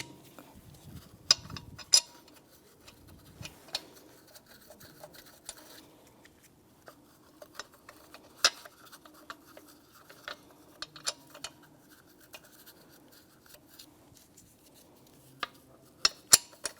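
Lug nuts threaded by hand onto the wheel studs of a 2009-2014 Nissan Maxima, giving sparse, quiet metallic clicks and small rattles at irregular intervals, with a few sharper taps and no talking.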